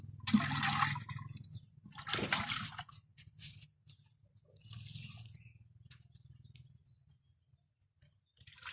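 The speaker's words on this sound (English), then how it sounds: "So let me wash my pot, my cooking pot." Water splashes and runs in bursts while a cooking pot is washed outdoors in a village beside a cooking fire, with quieter gaps between the pours and faint birdsong in the background.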